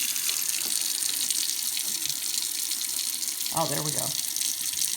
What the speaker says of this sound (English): I'm just going to put a splash of really hot water in to kind of boost that temperature up.